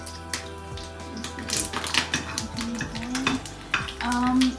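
Curry leaves sizzling in hot oil in a pan for dal, soft crackling and spatula scrapes under a voice speaking nearby.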